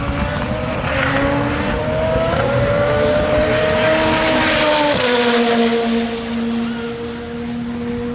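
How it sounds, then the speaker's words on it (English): A time attack race car at Tunerfest 2025 roars past close by with exhaust pops and bangs, its loud sustained engine note dropping in pitch as it goes by, then fading slightly while still blaring. "the pop of and the bang from the exhaust is just awesome"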